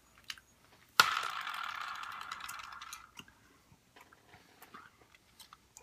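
A Bean Boozled challenge spinner is spun once, giving a sharp start followed by a fading ratcheting clicks for about two seconds, then quiet with faint small noises.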